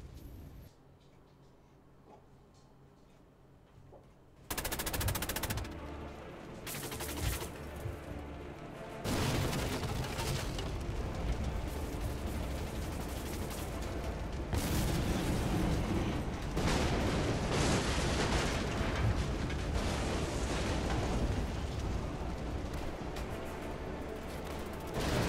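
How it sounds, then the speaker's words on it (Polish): Repeated gunfire and booming explosions from the video game Assassin's Creed Chronicles Russia, a quiet start giving way to sustained loud, dense bursts of shots and blasts that continue to the end. "Eksplozje, wybuchy."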